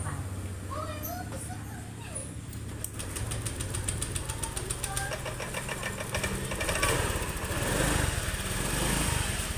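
A Honda Vario 125 scooter engine starts after a wiring fault tied to blink code 12 is fixed, then idles with a steady, close, buzzing run under ongoing talk.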